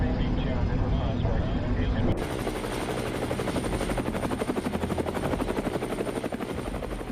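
A helicopter caught in a tornado gives off a dense, rapid rotor chop that turns into a sharper, pulsing beat partway through. Someone narrates over it throughout.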